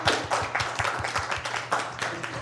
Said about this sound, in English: Let's give Rosch a round of applause